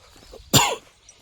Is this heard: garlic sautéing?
no